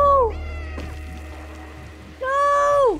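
A cat meowing in the video game Stray, two clear drawn-out meows separated by a quiet gap with a soft thunk between, loud and close with a low background hum.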